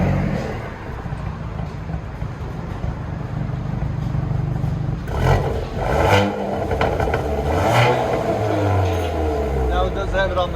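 A 2022 Hyundai Veloster N turbo with a dual exhaust and resonator delete rumbles steadily, then revs up in a few loud surges, with voices talking over it.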